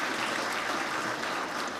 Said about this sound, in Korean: 모두 큰 박수로 축하해 주시기 바랍니다.